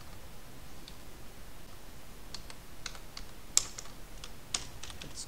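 Soft typing on a computer keyboard while writing HTML code, with sparse clicks that grow into a cluster of keystrokes and a couple of sharper taps, close and quiet with no voices.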